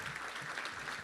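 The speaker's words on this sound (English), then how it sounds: "Let's give a round of applause for Hawks Plus for doing that." Brief burst of audience applause at a Little Rock Touchdown Club luncheon gathering, a dense, even patter of many hands clapping at moderate volume with no voices over it.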